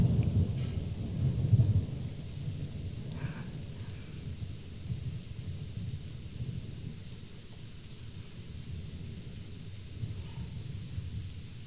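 Low rolling thunder rumbles over steady rainfall, loudest at the start, then fading into continuous soft rain with faint distant crackles.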